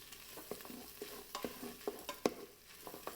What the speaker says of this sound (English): add our diced garlic and stir it in for just a couple of minutes